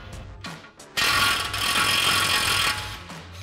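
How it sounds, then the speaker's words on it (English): A ratchet fitted with a 21mm socket spins a tie rod nut off on a 2021-2024 Ford F-150 front end: a few short ratchet clicks, then a sustained loud rapid ratcheting buzz for nearly two seconds, then quieter clicks, close up and alone. "we'll grab our 21mm socket again and run this nut off"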